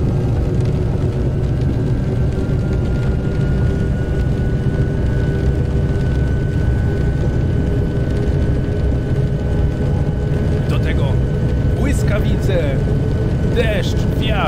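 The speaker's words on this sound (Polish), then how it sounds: "Ryk silnika. Słychać, jak turbosprężarka od razu pracuje." A BR 232 six-axle diesel locomotive in Train Simulator Classic, running through a storm in Brandenburg, gives a loud, steady engine roar with turbocharger whine that holds constant throughout, with brief clicks near the end.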